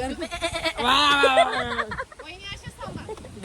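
A voice imitates a goat's bleat, a wavering, nasal cry held for about a second, with laughter and chatter around it, on a family trip to Darya Ghat waterfall near Junnar.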